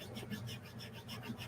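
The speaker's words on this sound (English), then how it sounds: "I'm going to cut the nut so that it'll work with" Steady rasping file strokes cutting the nut slots on a Stratocaster kit guitar, a continuous close scraping with a faint repeating back-and-forth rhythm and no talk.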